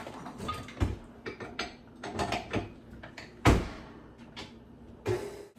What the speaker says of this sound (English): It's so nice to have a stand mixer.